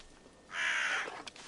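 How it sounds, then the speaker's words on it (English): In Assassin's Creed Valhalla, a crow gives a single harsh, drawn-out caw, fairly close and clear over quiet game ambience. "I don't know why there's a crow in here."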